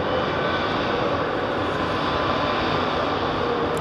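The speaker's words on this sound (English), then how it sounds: "747. Listen to this wind up" Boeing 747 engines spool up at London Heathrow Airport, a loud, steady broadband roar that holds at an even level throughout with no speech over it.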